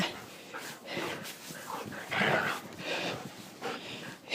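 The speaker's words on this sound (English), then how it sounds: "Silly puppies." Puppies romping in blizzard snow, with close snorts, huffs and panting breaths in uneven bursts, fairly loud and without clear speech.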